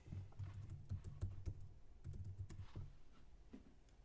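Someone types a login on a computer keyboard, a quiet run of clicking keystrokes in short bursts with brief pauses, close by and without talk.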